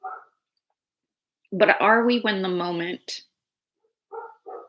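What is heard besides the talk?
dog barking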